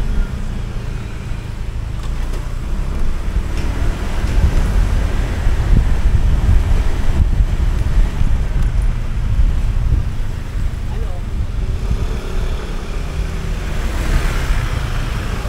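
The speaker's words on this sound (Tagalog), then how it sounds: "sana hindi masagap ng ating camera ang hangin." Strong wind buffets a camera microphone outdoors, a loud, continuous rumbling roar that rises and dips in gusts, with no voices.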